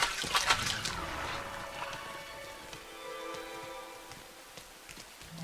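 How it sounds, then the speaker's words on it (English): Splashing through rain puddles in the video game Rain, with watery splashes and trickles up front that ease into a softer, steady patter of falling rain. "Gotta splash some puddles!"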